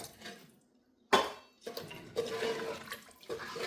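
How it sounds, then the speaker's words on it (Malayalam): Water poured into Kerala-style beef curry masala in a pan, with a sudden splashing gush followed by steady sloshing and the light clatter of the pan, close and fairly clear. "ഇനി ഇതിലേക്ക് ആ അരപ്പ് കഴിയ വെള്ളം ഒഴിച്ചെടുക്കാം."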